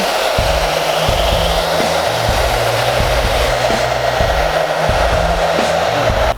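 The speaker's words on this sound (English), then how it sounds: "we're gonna take the hair dryer and we're gonna speed this up a little bit" Hair dryer blowing steadily and loudly on a bleach-designed T-shirt, a continuous whooshing drone with a faint rhythmic low thumping underneath, no voices.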